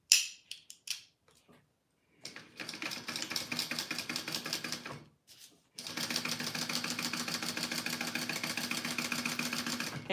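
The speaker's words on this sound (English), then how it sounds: "I'm sewing around that rectangle I drew for my zipper pocket" A sewing machine stitches a zipper pocket onto a purse in quick bursts: a few short clicks, then a run of steady rapid stitching, a brief pause, and a longer continuous run, close and alone.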